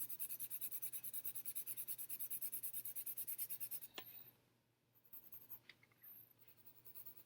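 A 2B pencil shades on paper in fast rhythmic back-and-forth strokes, a close dry scratching that pauses briefly and then resumes in shorter strokes.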